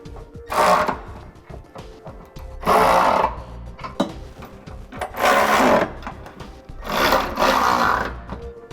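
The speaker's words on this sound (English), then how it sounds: "Now we can start tightening down our hardware." A power tool tightens the bolts of a Curt trailer hitch receiver on a 2015 Chevrolet Traverse in four loud whirring bursts, each about a second long, separated by brief pauses.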